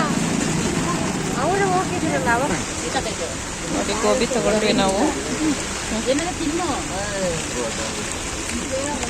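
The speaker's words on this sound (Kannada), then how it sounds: "ಮಳೆ ಬರ್ತಾ ಇದೆ ತುಂಬಾ ಮಳೆ ಬರ್ತಾ ಇದೆ" Steady, dense hiss of heavy rain fills the background throughout while a person talks over it, outdoors at a Ganesh festival pavilion in Chitradurga.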